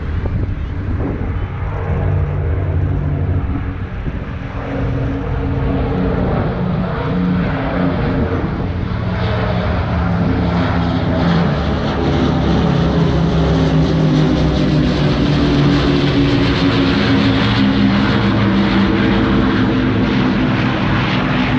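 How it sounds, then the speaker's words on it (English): An Avro Lancaster bomber flies past at the Ayr airshow in Scotland, its propeller engines droning loudly and steadily throughout, swelling slightly as it passes overhead. "and here comes the Lancaster"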